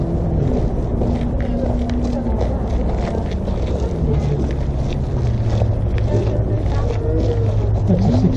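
Steady low drone of a 6-cylinder diesel engine driving an electrical generator at the Don River Railway in Tasmania, running continuously with shifting tonal hum and some wind noise.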